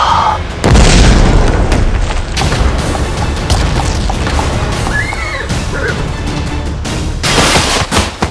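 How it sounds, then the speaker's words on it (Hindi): A bomb blast erupts in an animated Tenali Rama series, a loud booming burst followed by several seconds of dense crashing rumble and debris clatter, with heavy low-end energy and a second surge near the end. "विस्फोट हुआ है"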